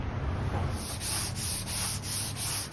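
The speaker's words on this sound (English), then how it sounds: "Drawer bottom only gets sanded." A wooden drawer bottom being hand sanded: close, continuous scratchy rubbing with a few regular back-and-forth strokes, steady in level and with no voices.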